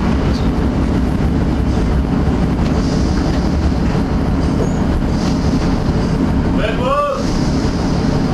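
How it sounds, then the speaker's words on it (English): A passenger train rolls steadily at about 30 mph with a constant loud rumble and rattle of wheels, and a brief squeal near the end. "it's a nice little joggy train. This is about 30 mile an hour all the way."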